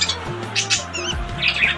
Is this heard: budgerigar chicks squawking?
yes